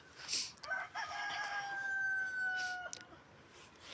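A rooster crows loudly and close by, one long drawn-out call lasting a few seconds, with brief clucks from chickens around it on a farm where the birds are being fed.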